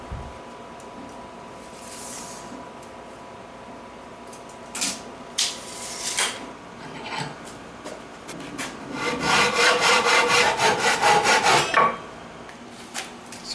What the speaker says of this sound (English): we're going to cut this to length